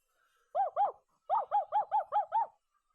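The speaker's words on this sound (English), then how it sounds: "hearing the familiar sound of Kotaro's excited barking" Seven sharp, excited barks from Kotaro, a dog in a video game: two close together, a short pause, then five more in a quick steady run, loud, near and alone with no talking.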